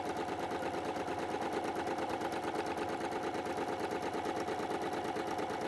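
Sewing machine stitching fabric on a cushion, a fast, even mechanical chatter of the needle running continuously and up close, with no talk over it.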